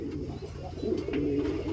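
White racer pigeons coo softly and repeatedly at close range, the low throaty calls rolling continuously over a faint room background.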